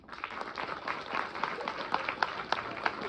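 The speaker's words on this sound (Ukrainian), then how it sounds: "Отже ж, оплески для артистів." An audience applauds performers at a charity concert in Sheptytskyi, with steady, dense clapping that holds for the whole span and has sharper individual claps standing out near the end.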